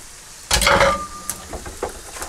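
Whisked egg hits hot frying rice with a sudden loud sizzle, followed by scraping and stirring sounds in the pan; close and alone, the hiss fading into intermittent utensil scrapes.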